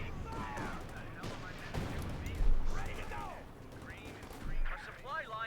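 Distant bursts of .50 cal machine-gun fire in Company of Heroes 2 amid battle noise, with a caster talking over the action throughout.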